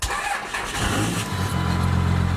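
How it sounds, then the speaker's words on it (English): A 24-valve Cummins diesel engine in a second-generation truck cranks and catches off a jump starter, then settles into a low, steady rumbling idle. "the Noco thing will start the truck up"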